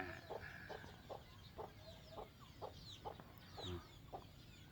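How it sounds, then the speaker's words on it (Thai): Chickens at a rural Thai farmhouse cluck in a steady, evenly spaced rhythm, fairly close, while small birds chirp faintly in the background. "ไก่ก็มี"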